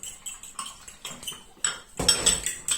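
Fork and other cutlery clink against dishes in a home kitchen during an iftar meal, with a quick run of sharp metallic taps building to a busier, louder flurry of clatter near the end.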